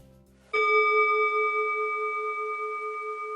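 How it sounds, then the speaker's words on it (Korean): A singing bowl used for therapy is struck once in a quiet room, giving a clear, pure bright tone that sustains and slowly fades over several seconds. "싱잉볼 테라피 하는 중이에요"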